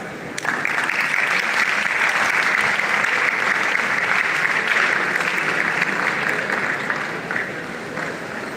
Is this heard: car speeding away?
no